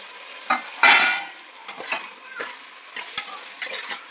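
Tomato and green chilies stirred and frying in a pot for vegetable biryani, a loud sizzle with repeated scraping stirs at an irregular rhythm, close up and with no talking.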